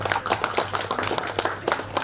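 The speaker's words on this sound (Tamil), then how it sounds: "அதற்கான பாராட்டுதலையும் நமது கைத்தட்டல் மூலம் தெரிவிக்க அழைக்கின்றேன்" A small audience at an online cybercrime awareness event claps in appreciation, a brief burst of distinct, fairly close handclaps in an uneven rhythm.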